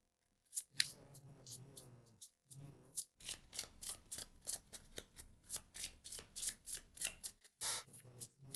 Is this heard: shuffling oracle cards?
yes